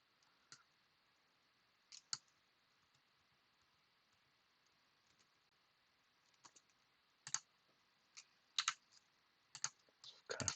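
Someone types on a computer keyboard while animating in Blender, producing sparse, irregular keystroke clicks that grow busier toward the end over a faint steady background hum.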